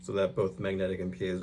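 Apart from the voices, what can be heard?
No everyday noises stand out.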